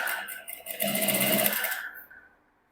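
Sewing machine stitching a blouse neckline, a rapid continuous chatter of the needle running for about a second and a half, then slowing and falling silent.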